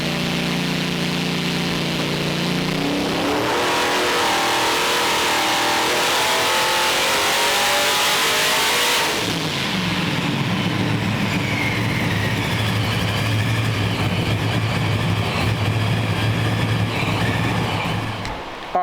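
A Procharged Chevy C10 engine on a dyno pull, revving steadily up toward 6,400 rpm with rising supercharger whine, then cutting back to a lower drone, loud and close with no talking.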